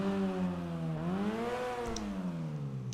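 A Koenigsegg Agera RS (Overflod Entity XXR) revs in GTA Online after an engine upgrade, its tone rising, dipping and climbing again in steady, moderately quiet sweeps with no other sounds.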